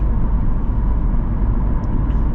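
Steady broadband road and tire roar fills the cabin of a 2024 Chevy sports car, either a Corvette or Camaro ZL1, while driving, a continuous low rumble with no talk over it.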